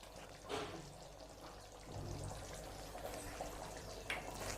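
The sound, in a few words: fresh cream being poured into korma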